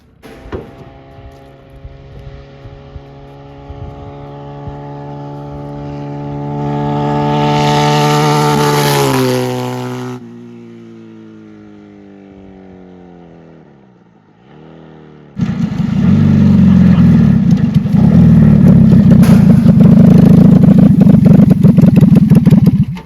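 Motorcycle engine fitted to a lawn mower, idling with a steady harmonic drone, revving up briefly, dropping to a low rumble that slows and fades, then surging into a loud, sustained high-revving roar as it drives off at speed.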